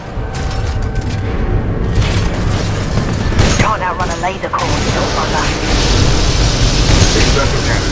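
Explosions and weapon fire rumble and crackle through a Titanfall 2 battle, with dense low booms layered under game voices and a person talking throughout.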